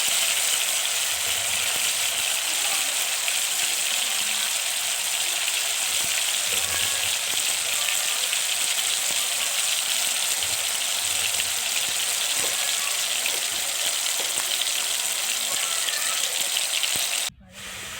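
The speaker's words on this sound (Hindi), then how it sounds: "अब इसके अंदर हम अपने जो टमाटर काट के रखे थे वो शामिल करेंगे।" Tomatoes fry with onion and ginger garlic paste in a pan for halim, giving a dense, steady sizzle with occasional soft stirring noises, cut off abruptly near the end.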